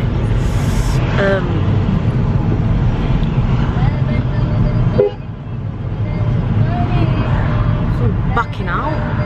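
A car backs out amid busy street traffic, with passing engines, a short horn toot and surrounding chatter layered over a constant roadway rumble.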